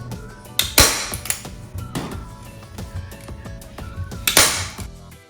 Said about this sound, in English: I'm going to drop another staple in